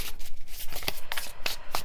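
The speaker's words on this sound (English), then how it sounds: "Bear with me here as I shuffle this deck just because it's new." A brand-new tarot card deck being shuffled by hand, with soft riffling rubs broken by several sharp card snaps spread irregularly across a couple of seconds, close and clear with no speech.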